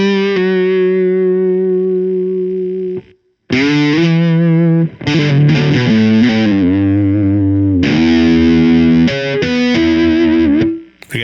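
Electric guitar runs through a Supro drive pedal and the effects loop of an EHX Silencer noise gate, giving loud distorted sustained chords and riffs in several bursts with sharp gated silences between them, heard alone.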